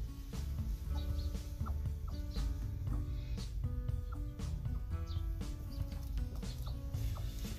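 An Aseel hen sitting on duck eggs gives soft, repeated low clucks and murmuring grunts close by, with scattered faint rustles and no speech over it.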